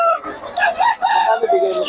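Rooster crowing close by among chickens at a poultry market in Bocaue, a loud drawn-out crow with wavering pitch over about two seconds, with a voice mixed in.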